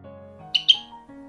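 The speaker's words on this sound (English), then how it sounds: "Sparrow." Sparrow chirping, two quick bright chirps close together over a faint background hum, short and clear.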